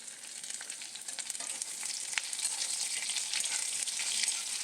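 Chopped onion and potatoes fry with whole cumin in a pan, a steady bright sizzle that grows slightly louder over a few seconds, close up and uninterrupted by speech.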